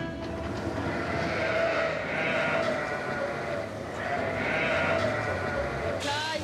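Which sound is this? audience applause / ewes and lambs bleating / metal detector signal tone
ewes and lambs bleating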